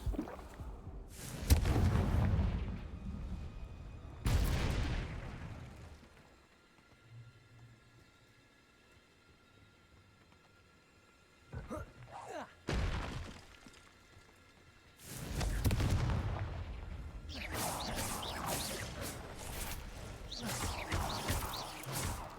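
Confringo fire-spell blasts in Hogwarts Legacy burst out as loud, heavy booms in several bursts, with quieter stretches of game sound between them.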